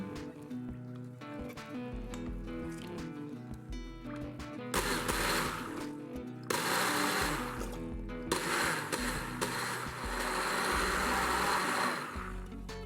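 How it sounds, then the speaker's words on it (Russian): A blender whirs loudly in bursts, its motor rising and falling in pitch as it churns thin pancake batter of milk or water, with short pauses between pulses. "дальше перебиваем блендером до однородности"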